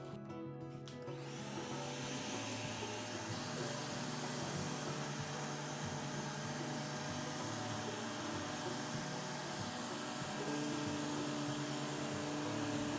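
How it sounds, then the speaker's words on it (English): A steady, loud motor whine of a power sander on furniture veneer runs continuously alongside a wet/dry vacuum's drone, unbroken from start to finish with no talking. "I always like to hook up my sander to a wet dry vacuum"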